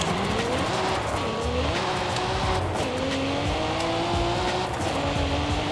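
A Cadillac CT5 Blackwing in Forza Horizon 5 holds on launch control with anti-lag, its engine droning loud and steady with rising and falling revs, crackles and pops, and no talk over it.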